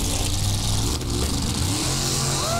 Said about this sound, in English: Let's see what kind of burnout this guy's got.